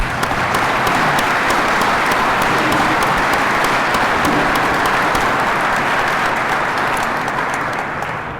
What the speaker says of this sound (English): Let's give this everybody applause.